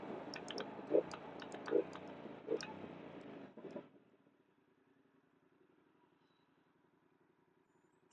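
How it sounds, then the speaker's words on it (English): Yamaha R7 motorcycle with an SC exhaust on a stock tune, giving a few sharp pops and cracks over a burbling idle before the engine note drops away to near silence. "Still get some nice cracks and burbles out of it."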